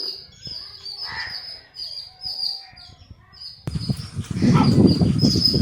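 House sparrows chirp in lively, overlapping chatter nearby, and the sound grows busier toward the end with rustling and flapping.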